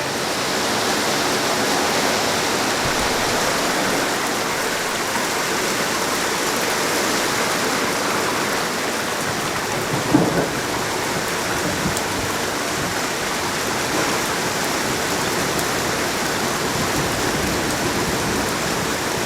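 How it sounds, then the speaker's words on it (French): Steady heavy rain pours outdoors during a summer storm, a dense continuous hiss throughout with one brief louder knock near the middle; no thunder rumble stands out. "On a de la flotte, de l'orage."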